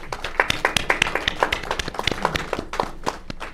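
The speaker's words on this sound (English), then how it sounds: "Please, let's give him another round of applause." An audience claps at the Awakening African Diaspora and Investment Conference, a brisk round of many overlapping hand claps, close and lively, tapering slightly toward the end.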